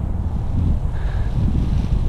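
Gusty Santa Ana wind of over 20 mph blowing across a local park, a steady low rumble buffeting the microphone for a couple of seconds with no talk.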